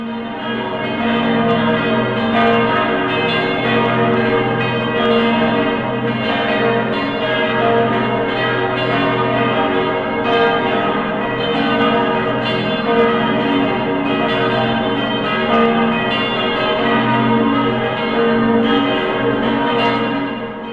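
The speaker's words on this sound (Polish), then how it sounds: "A po paradzie przez kwadrans radośnie biją dzwony." Church bells ring continuously in an overlapping, layered peal for Swiss National Day after a town parade, steady and fairly loud, with no voices.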